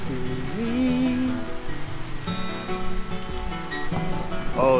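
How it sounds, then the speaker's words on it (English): Steady rain patters on surfaces outdoors, with birdsong chirping clearly above it in a constant, moderately loud wash. "Oh, the rain is slowing down."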